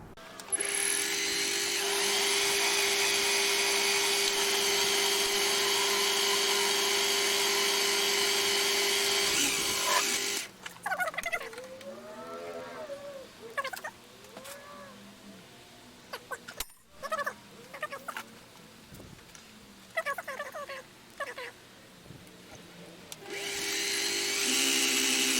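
Gingery milling machine cutting metal, taking a half-millimetre cut, a steady loud whirring drone with a sustained hum, stopping midway for a stretch of quiet background and indistinct voices, then resuming near the end.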